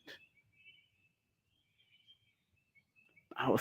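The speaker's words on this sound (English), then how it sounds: "Birds are just flying around me right now, hearing my voice." Birds chirping outdoors in a thin, steady high twitter that runs through most of the stretch, quiet and somewhat distant, with a brief louder rustle at the end.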